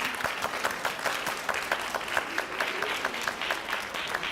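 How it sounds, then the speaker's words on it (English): Audience applause for student participants at a middle school literacy day competition, a moderate room-filling patter of many hands with individual claps standing out, steady for several seconds. "join us in applause for all of our student participants."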